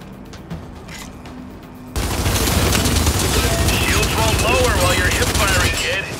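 Sustained automatic gunfire from a Gears 5 training session erupts after a quieter stretch, a dense continuous rattle of shots with voices speaking over it.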